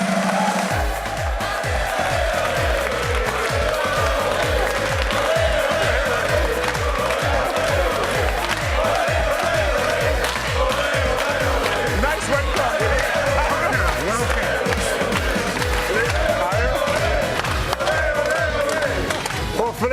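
A rugby chat-show studio audience gives a long, loud welcome to a guest's entrance, continuous cheering and crowd noise with rhythmic clapping and music underneath, sustained at full level throughout.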